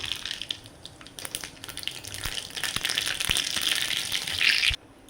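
Mustard seeds crackle and spatter in hot groundnut oil for a tomato chutney tempering, with a dense hissing sizzle and sharp scattered pops that build toward the end, then stop abruptly.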